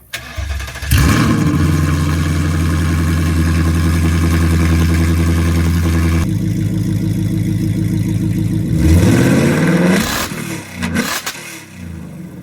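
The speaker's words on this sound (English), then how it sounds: "Let's go ahead and start it up and then give you a rev." A Whipple-supercharged S650 Ford Mustang with MBRP custom exhaust dumps cranks over and fires up loud and close, settling into a heavy, steady idle before a sharp rev swells, drops away and blips again.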